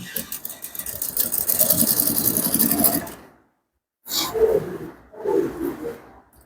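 A sewing machine stitches the piped neckline of an Ankara top in a steady run, stops, then sews two shorter bursts with a voice speaking over parts of it.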